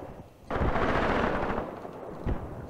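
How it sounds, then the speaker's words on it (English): Artillery fire in the Graviteam Tactics Mius Front war game: a loud blast erupts and rumbles on for about a second, and a second heavy report follows shortly after. No voices. "keep calling in the artillery"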